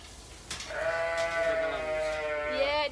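Lambs bleating in a pen at a farm, one close, sustained, wavering bleat that rises and holds, followed by a higher cry near the end over faint background noise.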